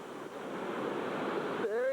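A raft crashes through whitewater rapids on the Ocoee River with a steady, rushing roar of water and wind close to the microphone, ending in a brief voice.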